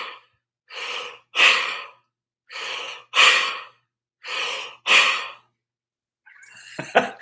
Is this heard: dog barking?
no